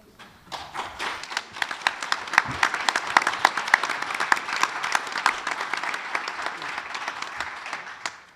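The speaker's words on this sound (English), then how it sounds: "Another big round of applause for Klein Forest High School" Applause for Klein Forest High School at a school board meeting: a crowd claps with distinct, crisp hand strikes, building quickly and staying moderately loud and lively throughout.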